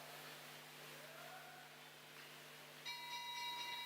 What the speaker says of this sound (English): They get the bell.